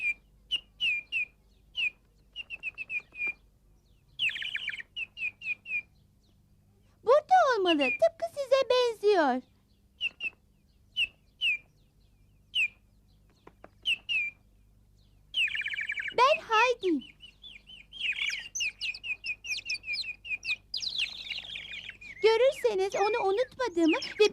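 Bright bird chirps and tweets in short repeated bursts with quiet gaps, interspersed with a child's high-pitched voice speaking.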